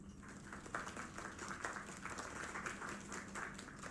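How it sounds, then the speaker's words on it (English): Faint applause from a crowd, a dense patter of clapping heard from a distance and sustained throughout. "Another round of applause."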